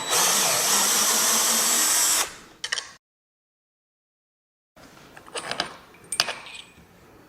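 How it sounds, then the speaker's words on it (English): Bolts being backed out of the windscreen mount on a 2025 Zero SR/F Touring motorcycle: a loud burst of power-driver whirring, then a gap of silence, followed by a few short metallic clicks and rattles close by. "I've already loosened these, so we're just gonna remove them slowly."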